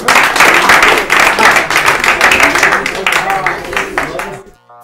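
Audience at an Urdu-language literary quiz show claps steadily, a dense, loud round of hand claps lasting several seconds before cutting off abruptly with a brief voice at the end.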